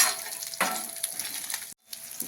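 Onion and carrot are stir-fried in a pan, a close sizzle broken by scraping spatula strokes and a brief pause before the frying resumes, with no voices.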